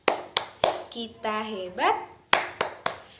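A classroom of children doing a rhythmic spirit clap, sharp hand claps in a steady pattern, first three, then a pause while voices chant, then three more claps, close and clear.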